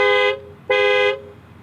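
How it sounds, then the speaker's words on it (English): A 2020 Toyota Land Cruiser Heritage Edition horn sounds twice after the key fob panic button is pressed, two loud, close honks of about a third of a second each, separated by a short gap, with no talking. "it beeps the horn"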